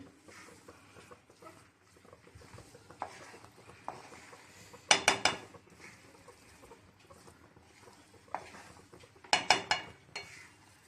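Tomato rice with chopped coriander being stirred in a pan: soft scraping and patter of a spoon through rice, with two brief bursts of clinking metal against the pan, fairly close and moderately quiet, no talking.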